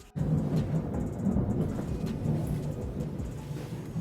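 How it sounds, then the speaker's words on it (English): Thunder rumbles through an outdoor thunderstorm at dusk, a low, continuous roll that starts abruptly and stays loud and broad for several seconds, with no talk over it. "It's thundering."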